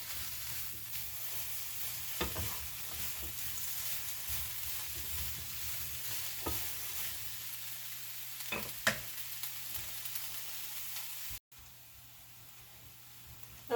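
Vegetables cooking in a covered pan give off a faint, steady sizzle and hiss, with a few soft knocks and clicks breaking through now and then.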